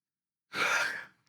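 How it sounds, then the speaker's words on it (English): A stifled, almost-sneeze: a single sharp breathy burst of air from a person, close and fairly loud, followed by a brief quick sniff or catch of breath. "That was almost a sneeze."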